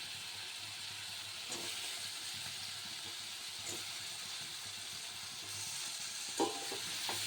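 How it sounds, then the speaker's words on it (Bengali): Boiled potato sautés in a pan with a steady, fairly quiet sizzling hiss, broken by a few soft scrapes of stirring and no voices. "এটা ভালো করে কষে নেব।"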